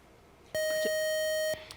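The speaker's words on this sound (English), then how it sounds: "The buzzer got you." A quiz show timer buzzer sounds once as a loud, flat electronic tone lasting about a second, with faint background noise before and after.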